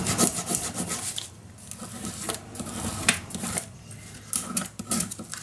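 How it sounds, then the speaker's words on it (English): Paper being burnished down with a tool while assembling a travel mini album, heard as close, uneven rubbing and scraping strokes in irregular bursts with short pauses between them. "Burnish that down."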